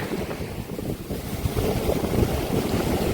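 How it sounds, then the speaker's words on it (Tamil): Rough sea surges onto a beach beside a seaside Murugan temple. The surf makes a loud, continuous rumble mixed with gusty wind buffeting the microphone, with no one talking. "அழகான ஒரு கடல் சீற்றம்"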